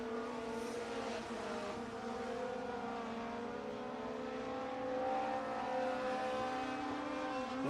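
Race cars circle the I-75 Raceway track in Niota, Tennessee, during time trial qualifying, heard as a faint, distant, steady engine drone that swells slightly midway, with no talk.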